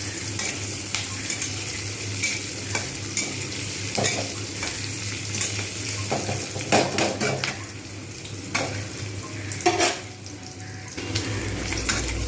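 Onions sizzle steadily in a pan while a utensil scrapes and clacks against the metal in irregular stirring strokes, close and continuous, with no voices.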